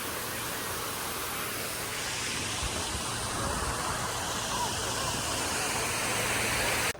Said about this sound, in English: Found a fountain, looks like a pineapple.